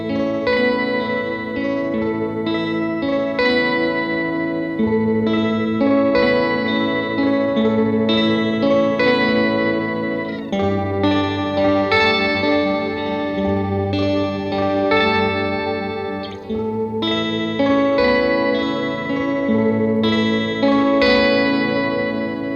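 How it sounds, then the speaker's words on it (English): An electric guitar runs through an Earthquaker Devices Organizer pedal with a higher octave and reverb added, producing full, organ-like sustained chords with shimmering upper harmonics and a reverberant tail, played alone and steadily at close range. "Now let's add that higher octave and some reverb."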